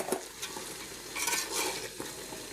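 Cauliflower and cabbage are stirred in a sizzling pan, the spatula scraping in a few soft bursts over a low, steady fry, fairly faint and with no talk.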